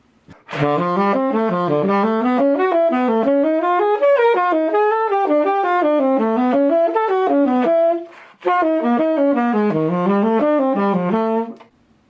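Electric or acoustic guitar plays connected pentatonic scale runs whose roots shift in an augmented pattern, steady stepping single notes in two phrases with a brief pause near the end, played alone and clear.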